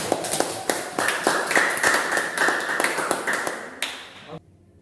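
Classroom applause from a group of students clapping together, a dense run of claps and taps lasting several seconds and then stopping abruptly, with no talk over it.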